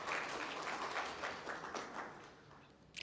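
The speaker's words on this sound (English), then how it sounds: "So, round of applause for Vivek." A seminar audience at a septic and water pump event applauds, a steady wash of many hands clapping for about three seconds before it tapers off.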